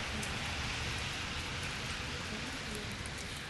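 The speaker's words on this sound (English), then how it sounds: "Sophia, is that rain still sticking around?" Steady rain pours outside on an open weather deck, a dense, even hiss of drops hitting surfaces that stays constant throughout with no voices.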